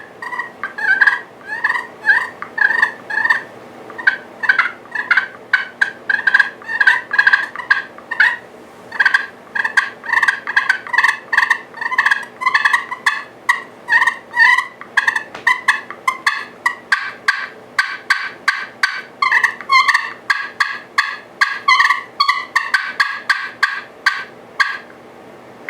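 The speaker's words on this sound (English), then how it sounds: "here's the slate, the purple slate rubberized pot. I think this sounds more like a turkey." A purple slate rubberized pot-style friction turkey call produces long runs of close, loud yelps in quick rhythmic series, with brief pauses between sequences and no talking.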